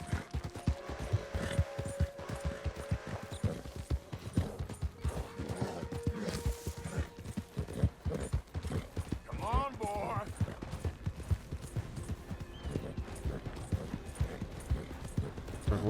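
Horse hooves clip-clopping at a steady galloping rhythm in the Red Dead Redemption 2 video game, continuous and fairly close, with occasional game sounds layered over it.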